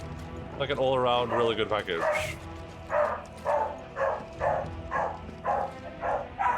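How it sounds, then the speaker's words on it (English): Dogs bark in a steady rhythmic series, about one bark per half second, loud and fairly near, following a stretch of someone talking over them. "Sorry about the dogs."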